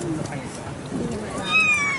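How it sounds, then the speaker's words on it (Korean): A stray cat on Dongbaek Island in Haeundae gives a short, clear meow near the end, following a moment of someone talking nearby. "이러면 여기 고양이 있어."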